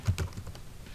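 Quick run of close, crisp keystrokes on a computer keyboard, several taps in fast succession.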